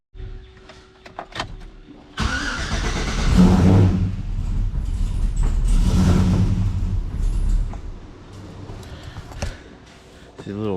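Supercharged M122 engine with a blower on a dyno, cranking at about two seconds, then catching and running loud and a little rough for several seconds before settling toward idle, with shop noise around it.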